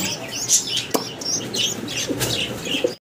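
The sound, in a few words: pigeons, High Flyer Saharanpuri breed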